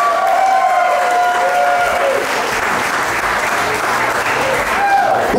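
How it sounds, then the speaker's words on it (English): Wedding guests at a Riviera waterfront reception applaud after a newlywed game, a steady dense clapping that fills the space at close range with some cheering and voices mixed in. "Everybody give them a nice round of applause."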